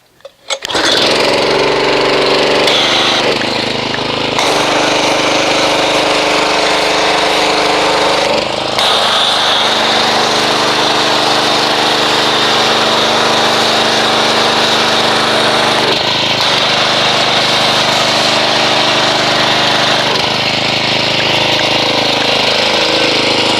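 A pressure washer with an MTM PF22 foam cannon sprays McGuire's Deep Crystal car soap onto a car engine, a loud, continuous motorized drone with steady hiss that starts abruptly and runs throughout with slight shifts in pitch, no talking.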